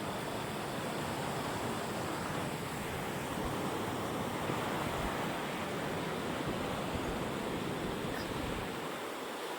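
Floodwater from the season's first rain rushes past in a village, a loud, continuous broadband roar with no breaks and no voices.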